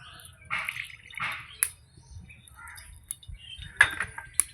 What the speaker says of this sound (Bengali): বড়ি ভাজার পর কড়াটা আমি আবার বসিয়ে দিলাম এবার শুক্তোটা করে নেব তেল দিয়ে দিচ্ছি